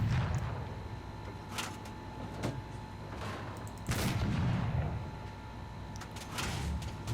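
A German 3.7 cm gun fires rapidly in the War Thunder video game, a string of sharp, punchy bursts at a quick irregular rhythm over a steady engine-like background rumble.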